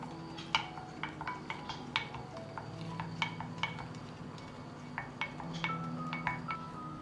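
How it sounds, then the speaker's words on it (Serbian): A spoon stirs a goat whey and water drink in a jug, giving repeated light clinks against the container in an irregular rhythm, close and clear, with no speech. "I promešat ću."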